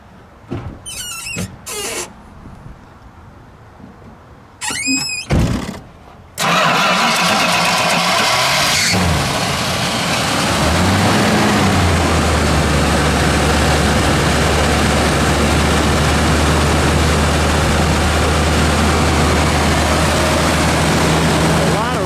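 After a few brief sounds, the engine of a 1965 Imperial Crown Convertible cranks and roars to life, then settles into a loud, steady, rumbling idle that runs slightly high.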